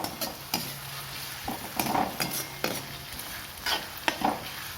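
Tomatoes and onions stir-fried in a pan for veg Kolhapuri, with a spatula repeatedly scraping and knocking against the pan over a soft, steady sizzle. The strokes come in an irregular rhythm, close and clear, with no talking.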